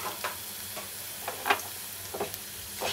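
Split dried red chillies and nigella seeds frying in hot oil in a pan, a soft continuous sizzle punctuated by light, scattered crackles and stirring ticks.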